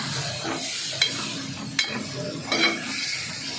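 Clams from a tidal creek are dry-cooked masala style in a pan, with a steady sizzle and a few sharp scraping stir strokes. It is close and alone, with no voices.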